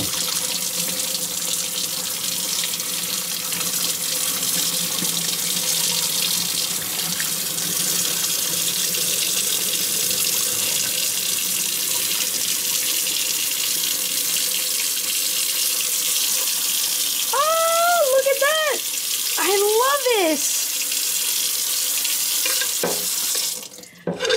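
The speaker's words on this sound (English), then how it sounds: "I like to run cold water in my sink when I pour it out." Cold water runs from a tap into a kitchen sink, a steady close rushing hiss that continues throughout, joined near the end by a few short squeaky tones and a clunk.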